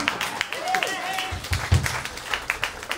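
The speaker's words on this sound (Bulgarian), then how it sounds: "Мерси за аплодисментите" Audience applause greets band members as they are introduced at a rock club show, a patchy burst of clapping with scattered crowd noise and a voice over the top.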